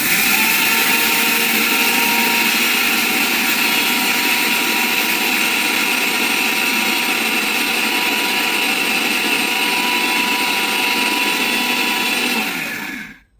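An electric blender grinds spices with a loud, steady whir running unbroken for about thirteen seconds before cutting off abruptly at the end.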